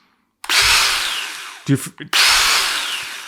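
A Ryobi 18V brushless battery chainsaw revs close up in two loud, sustained runs, separated by a short pause with a few brief motor bursts.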